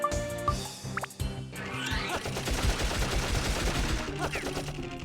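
Shots fired at an enemy in the video game Dark Cloud, a busy stretch of rapid, repeated impacts over game music, with a voice talking now and then.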